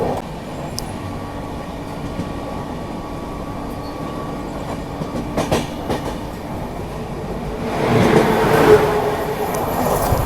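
The Dehradun–New Delhi Shatabdi Express passes by, a steady rolling rumble with rhythmic clickety-clack from the wheels that swells louder toward the end.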